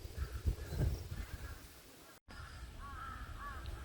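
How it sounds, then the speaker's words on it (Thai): Crows flying at sunset give faint, distant caws in short repeated calls over low outdoor rumble and handling noise, with a brief dropout partway through. "นี่คือบรรยากาศของอีกาบินกับลัง"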